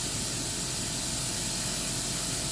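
Lysol aerosol sprayed into the airstream of a duct nozzle during a ductwork install, a steady broadband hiss running unbroken for a couple of seconds at moderate level.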